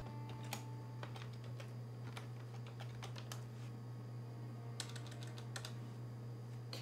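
Typing on a computer keyboard, quiet irregular clusters of key clicks with short pauses between bursts, over a steady low electrical hum.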